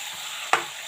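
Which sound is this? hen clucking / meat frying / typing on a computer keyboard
meat frying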